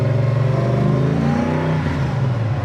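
A 1969 Ford Mustang Mach 1 R Code V8 with a four-speed manual rumbles loud and deep from close by, its steady throaty drone rising and falling slightly as it pulls under load.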